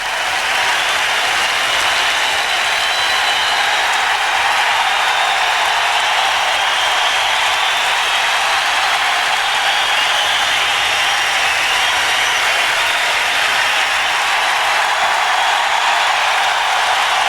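A hockey arena crowd in a tribute to Mark Messier, with the Sabres players staying on the ice to join in. The applause is loud, dense and unbroken, holding steady throughout with no voices standing out.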